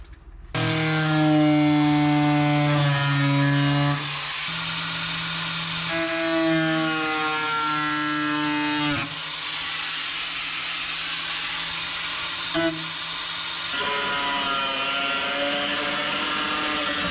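A power tool cuts through the rusty floor panel of an Autozam AZ-1 (Suzuki Cara), giving a loud, close, sustained whine whose pitch shifts as the blade loads and eases, with a few brief dips over about seventeen seconds.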